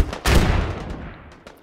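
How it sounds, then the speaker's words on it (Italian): Gunfire in the military shooter game Squad: a single sharp, loud shot that cracks out and then decays into a rolling echo, with no talk over it. "Sento spari da quella parte."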